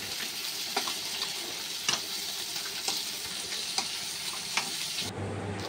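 Tomatoes sizzling in hot oil in a pan for fish biryani, a steady close frying hiss with light clicks of stirring, ending abruptly.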